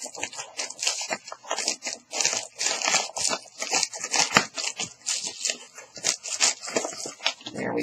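Crinkly tearing and crunching of packaging come up close and steady as a monthly knitting subscription box containing yarn is opened and its contents pulled out.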